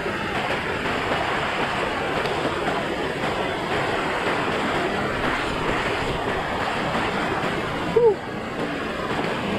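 Floodwater rushing through a street during typhoon flooding, a steady broad wash of water with wind noise, loud and continuous, with a brief squeak near the end.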